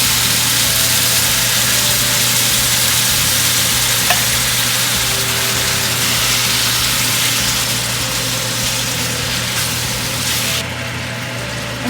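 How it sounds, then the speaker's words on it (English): Diced tomatoes go into a pot of beef vegetable soup with a loud, continuous hiss and sizzle that runs steadily for about twelve seconds, easing slightly toward the end, with no one talking. "Then we'll put the diced tomatoes."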